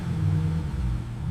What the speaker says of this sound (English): A quick rev of the engine confirms the massive power waiting to be unleashed.